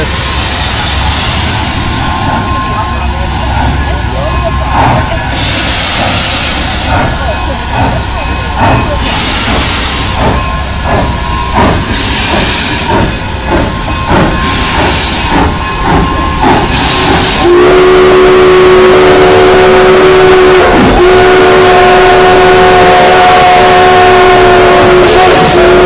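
A loud steam locomotive whistle sounds close by at the Durango and Silverton railroad, first in rhythmic pulsing blasts over chugging and hiss, then as a long sustained shriek.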